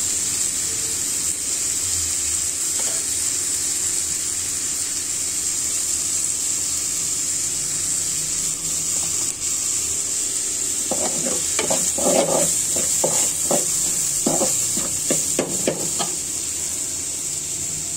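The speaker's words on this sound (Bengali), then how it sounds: "ডালটা ভাজা হয়ে গিয়েছে।" Lentils (dal) fry in a pan with turmeric and chili powder, giving a steady sizzle throughout, with a burst of scraping stirring strokes in the second half. No voices are heard.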